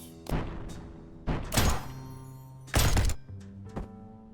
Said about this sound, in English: there's also a bunch of explosions that are about to go off